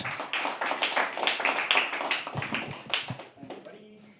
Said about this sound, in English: Can we start clapping? Start clapping.